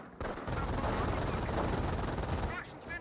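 Sustained MG42 machine-gun fire in the Company of Heroes video game, a dense continuous burst lasting a couple of seconds at steady loudness, with other battle noise around it.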